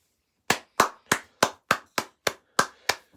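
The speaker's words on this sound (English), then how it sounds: "everybody give a round of applause for Betty Petty Peachword Hayward" Nine crisp, evenly spaced hand claps ring out alone, close and sharp, with silence between each.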